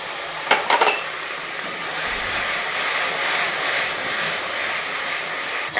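Spice paste for a country chicken curry sizzles steadily in a wok, a continuous loud frying hiss with a couple of sharp metallic stirring scrapes near the start.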